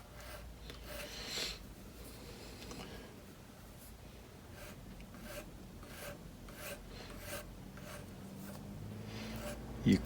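Metal file rasping along sharp protruding fret edges on a Cort X 11 electric guitar, a steady run of short scraping strokes at close range, fairly quiet throughout.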